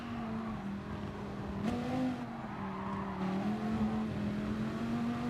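A racing car engine in Gran Turismo Sport drones steadily at the Monza circuit, its pitch rising and dipping slightly as the car is driven, with no talk.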